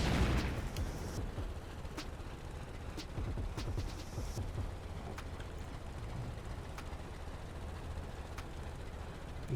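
A C4 charge set off against a tug boat in the game Stormworks, giving a heavy explosive boom at the start that fades into a long, rumbling low roar, with sharp crackling bursts scattered through the noise.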